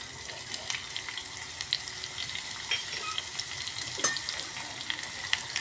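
Mustard seeds, cumin, curry leaves and garlic frying in oil for buttermilk rasam: a soft, even sizzle with scattered small pops and crackles, close but fairly quiet, no voices.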